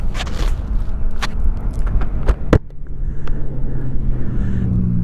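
Strong wind buffets and roars steadily beside Inks Lake on Park Road 4, with a few sharp gusts thumping hard at the start before the blowing settles into a constant rush.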